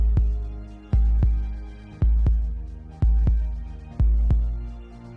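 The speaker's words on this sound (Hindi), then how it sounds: "उसके दिल की धड़कन तेज हो गई।" A heartbeat sound effect in a cartoon story: four loud, close lub-dub double thumps in a steady rhythm, each pair followed by a short, fading hum.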